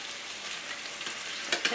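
Chicken pieces sizzle steadily in a hot pan, a close, dense crackle with a couple of brief louder spikes near the end as pieces are moved.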